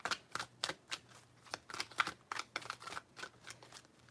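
Tarot cards being shuffled in a quick series of crisp riffling bursts, close and fairly soft, with no talk over them.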